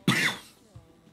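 A single sharp cough, close and loud, followed by a brief faint throat sound.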